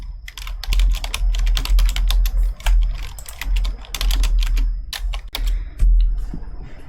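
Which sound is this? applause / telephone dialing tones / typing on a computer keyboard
typing on a computer keyboard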